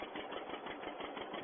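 Tractor engine from a 1951 sugar beet lifting scene, sounding like a single-cylinder John Deere, a steady muffled chugging with rapid even pops, fairly faint and alone.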